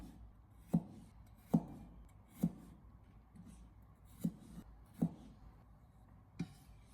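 A kitchen knife chops washed, drained leafy greens on a board with six crisp, evenly paced thuds, close and distinct against a quiet background.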